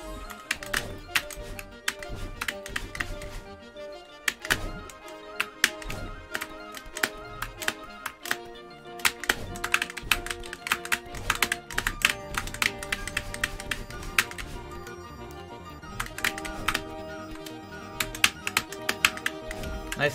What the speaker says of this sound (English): I think my keyboard's fine. I think it's done chattering.